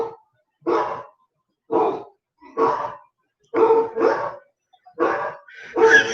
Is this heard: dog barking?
yes